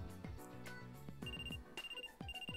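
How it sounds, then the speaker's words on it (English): Electronic ringtone of a phone in the video game Trauma Center: Second Opinion, a looping melodic chime with repeated bright beeping tones, fairly quiet and without voices. "A phone call."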